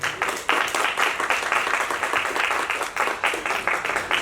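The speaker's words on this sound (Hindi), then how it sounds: "फिर भी मैं चाहूंगा एक बार जोरदार ताली बजाएं आप लोग।" Audience at a live comedy show at La Vie En Rose gives loud, sustained applause, dense rapid clapping from many hands filling the room with only brief swells and dips.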